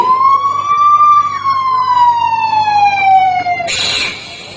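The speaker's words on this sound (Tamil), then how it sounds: "ஆம்புலன்ஸ்ல போயிட்டு இருக்கான்" A loud, close ambulance siren wails in a slow falling sweep for several seconds, then cuts off into a burst of hissing noise.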